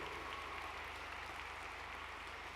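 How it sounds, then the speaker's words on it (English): A large camp audience gives sustained, even applause, a dense continuous wash of many hands clapping at a distance with no pauses. "Give yourself a very, very big round of applause."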